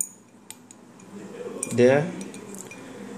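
A temperature sensor taps against a drinking glass of water, giving a few light clinks and a short rattling contact near the middle, heard close up while a person talks.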